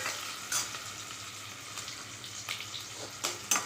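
Two large onions, sliced lengthwise, frying in a pan with a steady sizzle and occasional stirring scrapes, close and fairly soft, with no talking.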